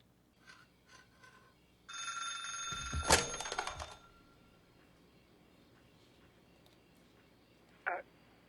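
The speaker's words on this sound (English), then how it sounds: "Just answer the phone." A telephone rings indoors in one loud, trilling burst lasting about two seconds, followed several seconds later by a short, fainter ring against a quiet room.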